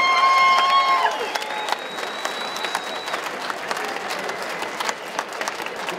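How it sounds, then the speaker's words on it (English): Crowd at a speedway bike meeting applauding and cheering, a sustained wash of clapping after a tonal sound fades, continuing steadily to the end. "How about a round of applause for the Hicks family right now?"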